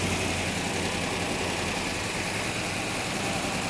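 Hemi V8 engine of a supercar idling with mechanical rockers rattling, a steady, loud, continuous rumble with a busy mechanical clatter and no talk.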